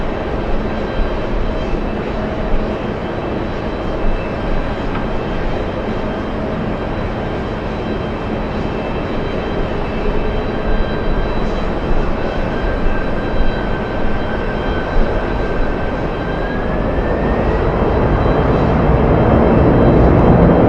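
An airplane at JFK Airport gives a continuous loud jet engine roar, steady and sustained, with a rising whine toward the end and no voices over it.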